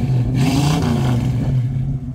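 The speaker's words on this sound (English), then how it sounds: "What a good sounding engine." A 1966 Ford Mustang hardtop's 289 V8 revs up in one short, close blip, its deep rumble rising and then settling back toward idle.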